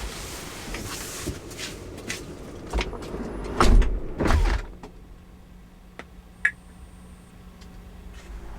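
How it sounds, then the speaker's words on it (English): Doors of a Tesla Model X shut with a couple of solid thuds, followed by a short click and a faint electronic chirp as the car locks, close by. "let's exit the car and lock the doors"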